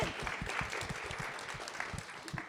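Applause from an audience at a talk on menopause support, a steady wash of many hands clapping at moderate level for a couple of seconds, with no speech over it.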